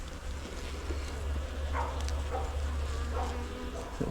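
Honey bees drone in a steady, close hum while a beehive is opened for inspection and cut comb frames are handled, with a few brief louder buzzes passing near and no talk over it.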